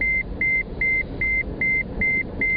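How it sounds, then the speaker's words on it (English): A steady series of identical high electronic beeps, evenly spaced about twice a second, over a low car-interior hum. "The beeping will end soon. It's because I'm not wearing a seatbelt"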